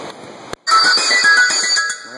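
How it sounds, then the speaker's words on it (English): An outdoor phone ringtone in a canyon plays a loud, bright electronic melody that cuts off briefly, then resumes as a steady tune before tailing off. "That phone will not shut up."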